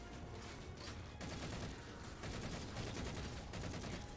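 Halo 4 gameplay gunfire, a dense, continuous fusillade of rapid shots at moderate distance, steady and unbroken for several seconds.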